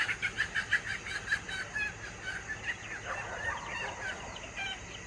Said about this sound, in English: Chickens are upset.